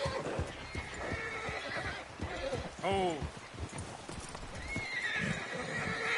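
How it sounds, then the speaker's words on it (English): A horse in Red Dead Redemption 2 whinnies loudly in a short wavering neigh amid steady clip-clopping hooves on the trail, while someone speaks briefly over the scene. "Is that horse okay, Arthur?"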